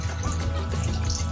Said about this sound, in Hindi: ऊपर इसके डालेंगे जी थोड़ा सा पानी